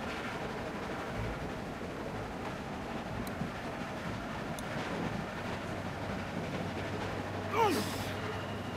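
Steady low rumble of a train rolling along tracks in The Walking Dead video game, a continuous even drone with faint metallic squeals near the end and no clear speech.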